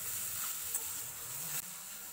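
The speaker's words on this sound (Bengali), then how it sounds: "সমস্ত কিছু ভালো করে আবারও মিশিয়ে দেব।" Eggplant and potato with spices being stirred in a pan for a bharta, a steady close sizzle with soft scraping strokes and a brief clink partway through, no voices.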